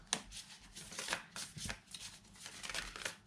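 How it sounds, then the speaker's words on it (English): Close, quiet shuffling of a tarot deck, a steady run of soft papery flicks and slaps with no talking. "Let's shuffle again for lesser cards."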